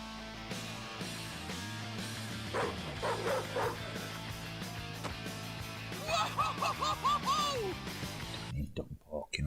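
Dog barking from an on-screen game or show, several quick yapping barks mixed in with music and other sound effects, with people talking over it.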